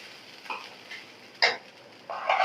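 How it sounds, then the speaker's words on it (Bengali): Rice is dry-fried and stirred in a pan, with a faint sizzle broken by a few short scraping stir strokes at irregular intervals, close by and with no voices. "এখন আমি চালটাকে ভুনা করে নেব।"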